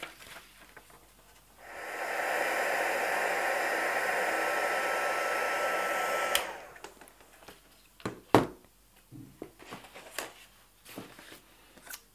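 A hot-air embossing heat tool blows over embossing powder on a scrapbook photo frame. The soft, even whoosh starts after a quiet moment, holds steady for about four seconds and stops, followed by light scattered handling clicks.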